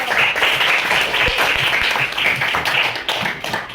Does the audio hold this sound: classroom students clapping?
yes